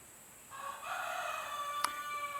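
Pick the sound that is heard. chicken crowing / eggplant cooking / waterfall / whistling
chicken crowing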